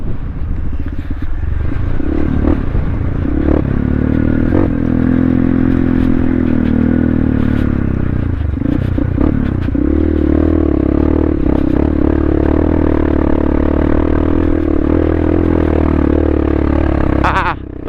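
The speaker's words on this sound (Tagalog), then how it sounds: "Tumatalbog ako eh. Matigas kasi yung gulong ko." A motorcycle with hard tires rides a rough mountain road near the summit of Mt. Williams in San Jose, Nueva Ecija, its engine droning steadily under constant wind roar with scattered clatters and bumps.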